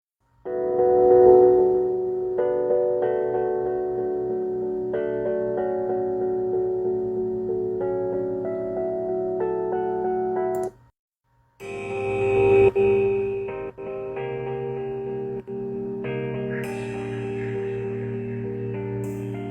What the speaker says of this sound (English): So this is what I had as the original melody sample.